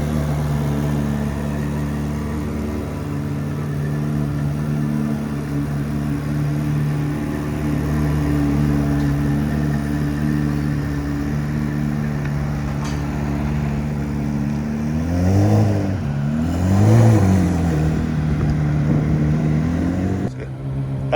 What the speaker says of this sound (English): That exhaust. Listen to that thing.